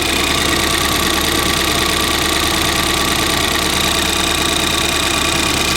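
Ford Fiesta ST engine at idle, running smoothly and without misfire, heard close as a loud, even drone with light mechanical ticking throughout.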